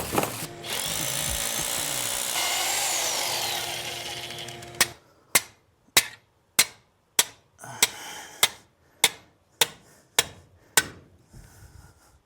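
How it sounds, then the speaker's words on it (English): A power drill bores into concrete blocks in a basement during block wall building, a continuous grinding whine for several seconds followed by a run of sharp, evenly spaced percussive bursts, close and loud with no talking. "I'm just gonna set the blocks up here and kind of drill a couple spots"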